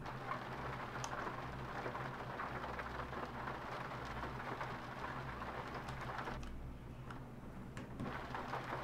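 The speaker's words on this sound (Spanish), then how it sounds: "Está lloviendo, tú. Hacía un montón que no había lluvia." Rain falling in the Euro Truck Simulator 2 driving game, a faint, steady patter over a low engine rumble, with scattered louder drops.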